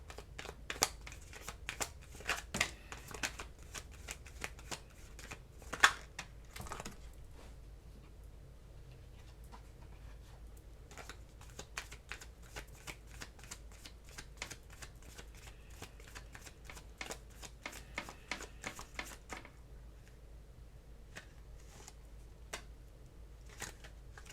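Tarot cards being shuffled by hand, quiet close riffling and flicking in irregular bursts with soft taps, continuing for a long stretch without talk.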